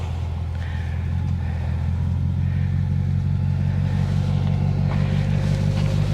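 A van crawls over rough bush terrain strewn with boulders and scrub near O'Briens Creek, its engine a loud, steady low rumble with faint rattles and knocks throughout.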